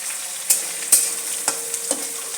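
Green chillies and coriander sizzle in a hot pan with a steady crackle, broken by a few sharp scrapes and clinks of a spoon stirring, all without talk.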